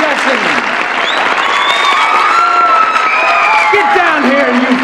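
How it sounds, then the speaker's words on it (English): An audience at a music showcase event applauds and cheers steadily, a dense wash of clapping with whoops and shouts sustained throughout, loud and near. "Don't stand up and miss that applause all day"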